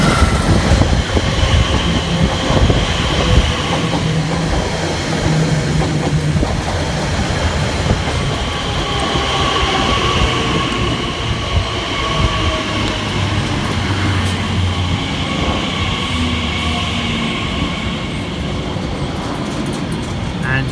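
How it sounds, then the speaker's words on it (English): An Elizabeth Line train, class 345 unit, arriving at a station on the Great Eastern Main Line, a loud continuous rumble of wheels and traction hum with faint squeals close by, no voices. "Arriving next into the station will be the 10:59 Elizabeth Line service from Shenfield through to London Paddington, and this will be 345015."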